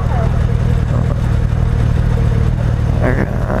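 Harley-Davidson Breakout 114 motorcycle on a test ride along a city avenue, its loud engine droning steadily up close with wind rush, and a rider's voice cutting in briefly near the end.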